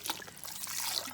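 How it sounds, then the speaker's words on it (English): Water runs through a human hair wig while it is rinsed from root to ends, a faint, brief trickling with soft splashes heard alone. "we're just letting again the water run from the root area down to the actual ends"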